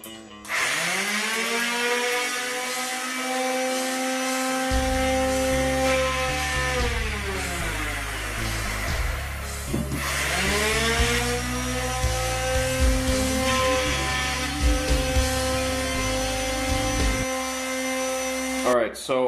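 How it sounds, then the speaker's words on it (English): A vibrating sander smoothing the edges of acrylic sheet buzzes steadily and close up for a long stretch, its pitch wavering as it works, with a few brief dips and knocks. "vibrator sander, and start cleaning up the edges"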